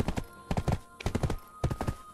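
Steady clip-clop of horse hooves in quick repeating clusters in the video game Black Desert, fairly close and clear, with a faint tonal hum underneath.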